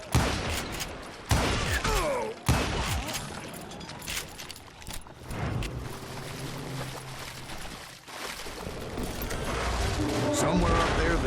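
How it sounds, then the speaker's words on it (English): A volley of gunfire rains down from above in a Wild West shooter, sharp bursts punctuating the first seconds amid score and effects, with a narrator's voice running under parts of the scene. "a fusillade of bullets come raining down from on high"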